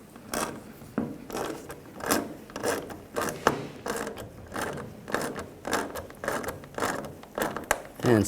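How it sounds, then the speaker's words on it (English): Ratchet tightening a bolt on the intake manifold of a 2011-2015 Chevy Cruze, a steady run of close mechanical clicking bursts repeating roughly every half second throughout. "And snug down the bolt."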